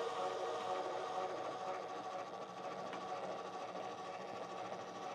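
An electric trailer jack motor whirs steadily as it lowers an Oliver travel trailer camper onto the hitch, a close, continuous mechanical grind with slight wobble in tone, quiet overall and without speech.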